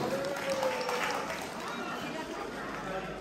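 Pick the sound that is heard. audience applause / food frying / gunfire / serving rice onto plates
audience applause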